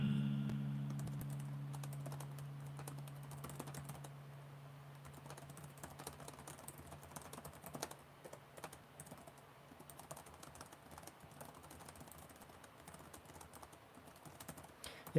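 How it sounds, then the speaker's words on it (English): Fast typing clatters on the keyboard of a 2024 Lenovo LOQ laptop, dense irregular key clicks close up, after a brief fading hum at the start. "We'll give it a quick typing test here."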